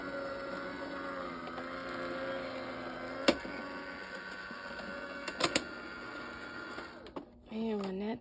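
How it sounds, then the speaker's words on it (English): A die cut machine hums and whirs steadily as foil and paper are run through its plates, with a few sharp clicks along the way and a brief voice at the very end. "And run that through. And any die cut machine will work."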